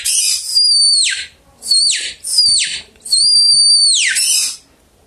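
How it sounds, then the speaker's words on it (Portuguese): A hand-held hunting call whistle used for paca, deer, agouti and peccary, blown with the tongue pressed to give a thin, high-pitched tone: four sustained whistles, each ending in a falling slide, close and loud with short gaps between. "Quando você sopra e pressiona a língua no pio, ele faz o som bem fino"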